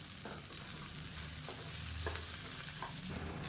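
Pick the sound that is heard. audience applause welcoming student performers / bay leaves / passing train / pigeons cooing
bay leaves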